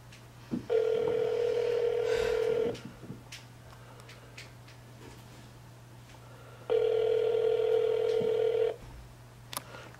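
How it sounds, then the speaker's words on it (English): Unanswered phone ringing in a video game, two evenly spaced long ring tones of about two seconds each with a pause between, over a steady low hum and faint clicks. "Answer the phone."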